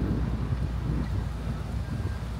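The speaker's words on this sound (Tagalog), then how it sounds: "Sobrang mahangin, guys." Strong, cold spring wind buffets the microphone in a continuous low roaring rumble outdoors.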